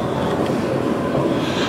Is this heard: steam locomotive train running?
yes